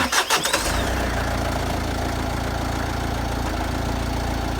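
An engine cranks with a short burst of starting knocks, catches and settles into a steady, loud idle during an oil pressure check.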